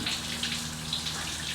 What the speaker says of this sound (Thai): น้ำไหลนองเลยครับ